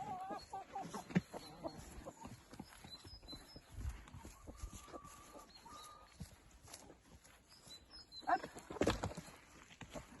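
Hens cluck in a movable coop in a garden, a faint scatter of short clucks and scratchy rustles with a couple of louder bursts near the end.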